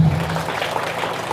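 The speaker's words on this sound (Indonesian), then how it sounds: "Tepuk tangan lagi." A crowd at a political speech breaks into a short burst of dense applause, a loud wash of clapping lasting only a moment, with no clear talking over it.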